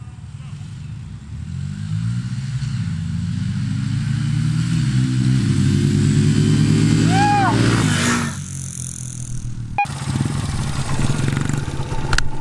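A Honda XR80 and a CRF110F dirt bike accelerate past the camera, their engines climbing steadily in pitch and loudness before sweeping by and dropping away, followed by a quieter idle.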